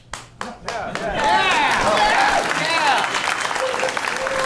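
A live podcast audience applauds, clapping swelling quickly into sustained loud applause with cheers and voices mixed in, after a few sharp opening claps.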